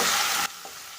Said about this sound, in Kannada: ಈರುಳ್ಳಿ ಸ್ವಲ್ಪ ಗೋಲ್ಡನ್ ಕಲರ್ ಬರೋವರೆಗೂ ಫ್ರೈ ಮಾಡ್ಕೊಳ್ಳಿ